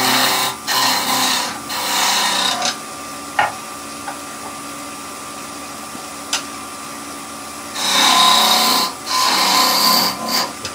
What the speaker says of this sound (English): We'll start off with this bowl gouge